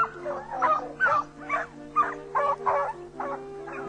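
A pack of foxhounds on a fox hunt gives repeated barks and yelps, about eight fairly close bursts in an uneven rhythm, with a faint steady hum underneath.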